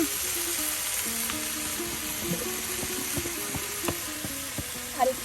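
Potatoes frying in a pan at a village kitchen, a steady close sizzle with occasional soft stirring clinks and scrapes, no talking.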